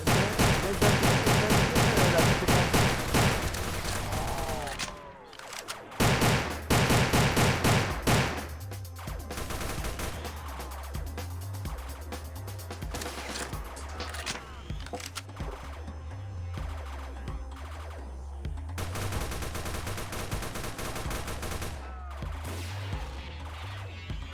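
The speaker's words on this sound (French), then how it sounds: "Un tir, deux tirs, trois tirs, quatre tirs, cinq tirs, tir en rafale" Rapid bursts of game gunfire in Roblox The Final Stand 2, dense crackling volleys that start loud, drop out briefly, then return in sustained stretches under a pulsing low background score.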